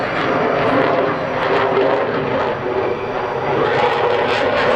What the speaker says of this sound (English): Look at those afterburners.